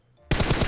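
Automatic gunfire from a Groza rifle in a mobile shooter game starts abruptly and rattles loud and fast after a quiet lead-in.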